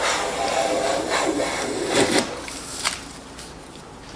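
Transitional wooden-bodied hand plane set deep, taking a wide, thick wood shaving in a close, steady rasping swipe that ends with a faint scrape and a small knock.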